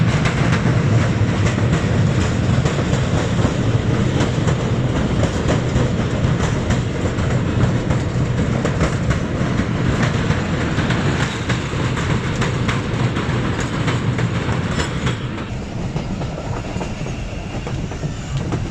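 The Thall Express rolls on steadily after crossing a bridge on the Rawalpindi to Mianwali line, a loud continuous rumble with rhythmic wheel clatter heard from onboard, easing slightly near the end.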